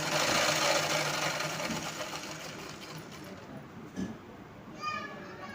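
A sewing machine stitches the folded lining of a long frock in a steady continuous whir that fades toward the end, close and loud, with someone talking over it and children faint in the background.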